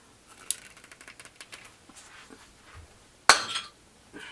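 A 9mm brass cartridge rapped against a floor to knock its bullet loose gives a sharp metallic clink at about three seconds, after a scatter of faint light taps and clicks.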